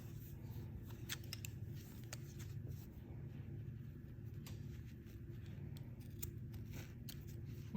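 Scissors snip the loose pumpkin-colored yarn ends on a machine-knitted scrubby, a few faint, sharp cuts over a steady low hum, with no talking.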